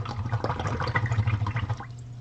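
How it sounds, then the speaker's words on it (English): A paintbrush swished and rinsed in a container of water while acrylic painting, with steady close sloshing and splashing for about two seconds before it settles. "I'm going to wash my brush off."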